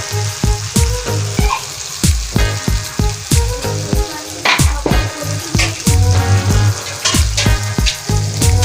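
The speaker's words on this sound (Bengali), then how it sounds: "আমরা এবার এর মধ্যে মাংসটা ঢেলে দেবো" Mutton tipped into frying masala in a pot, loud close sizzling and spattering with repeated scraping and stirring strokes in an uneven rhythm, no talk.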